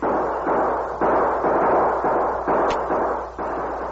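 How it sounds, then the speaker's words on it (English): Gunshots ring out from a cave in an old radio drama, a series of about eight heavy bursts in steady succession filling the scene, loud and close with no talk over them. "Then suddenly he heard shots. Those shots came from that cave."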